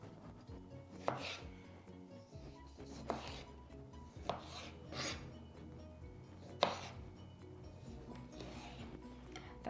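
A knife cuts cherry tomatoes into quarters for panzanella on a board, making a series of soft, irregular chopping taps close by, spaced about a second apart, over faint background music.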